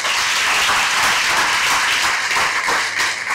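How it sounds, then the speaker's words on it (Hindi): An audience bursts into loud, sustained applause, with dense clapping from many hands filling the room evenly, no voices over it. "जोरदार तालियां आप सबके लिए"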